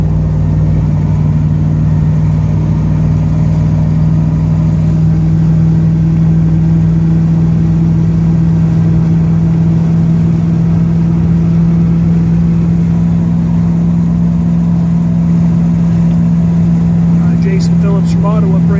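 A 1938 Chevrolet Master Deluxe on a test drive, heard from inside as a loud, steady engine drone with a constant low hum and road rumble that holds evenly throughout.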